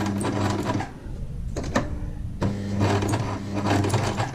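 A sewing machine runs a short straight seam of three forward stitches, its motor whirring with a steady low drone, briefly stopping for a second before resuming at close range.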